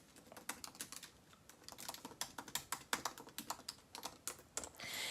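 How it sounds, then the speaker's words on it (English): Rapid, irregular keystrokes on a computer keyboard typing a message into a chat, close and clear with no talk, ending in a short burst of brighter hiss. "I'm going to type it right in this chat so that you can get it."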